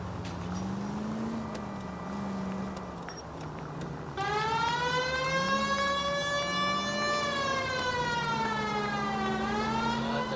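Wailing police siren from the 1940s detective game LA Noire, starting as a low droning tone, then jumping louder and rising into a strong sweeping wail that swoops up and down above steady engine rumble.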